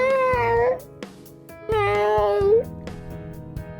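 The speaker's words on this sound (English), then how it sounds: "Sorry, my cat." A pet cat named Milo meows twice indoors, two long, clear, close meows with a short pause between them, alone without talk.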